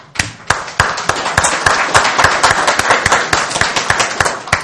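Audience applause from a seated crowd, loud and close, with sharp individual claps in an uneven rhythm running steadily for several seconds.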